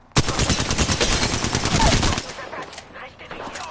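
Rapid automatic gunfire from the Apex Legends battle royale game, a loud dense burst of shots that runs about two seconds and then trails off into fainter scattered shots and game ambience.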